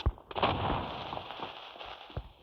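A flashbang grenade bursts in the mobile shooter game Standoff 2, a sharp pop followed by a sustained ringing hiss with faint crackles.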